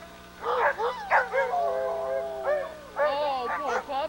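Several dogs at a ski resort yip, whine and howl in eager, overlapping bursts, close and loud, with people talking softly among them.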